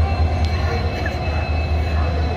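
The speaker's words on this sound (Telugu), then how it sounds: "మన ట్రైన్ అయితే దగ్గరికి వచ్చింది." A train draws up to the platform at night with a low, steady rumble and faint metallic squeaks, a voice murmuring underneath.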